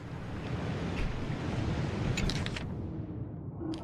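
Ocean waves wash and roar continuously in Honkai: Star Rail, a broad, steady surf noise with a brief brighter splash near the middle before tapering off.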